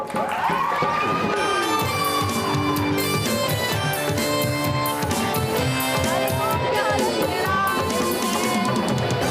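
A studio audience on a television talk show cheers and claps to welcome a guest chef. The sustained crowd noise is loud and dense, with whoops and shouts, and a musical tune plays beneath it.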